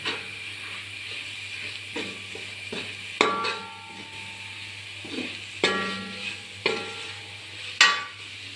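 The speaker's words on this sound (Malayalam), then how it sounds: "മസാല ഒന്നര ടീസ്പൂണ് എല്ലാം കൂടി മിക്സ് ചെയ്ത് ഒന്ന് മൊരിയട്ടെ" Masala spices frying in a pan for pork, a steady low sizzle under intermittent scrapes and clinks of a spoon stirring against metal, close and without talk.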